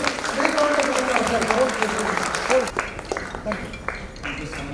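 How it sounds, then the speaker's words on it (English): An audience at a medical conference on lactation management and breastfeeding claps steadily, with a voice speaking over the first half before the applause carries on alone and tapers. "Big round of applause."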